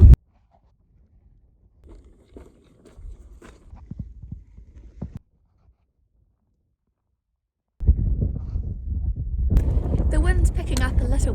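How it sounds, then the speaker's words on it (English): Wind on a mountain ridge line in the Seaward Kaikōura Ranges, a low blustery rumble that buffets the microphone, quiet at first and then a sustained, louder gusting roar. "The wind's picking up a little bit, just a little bit."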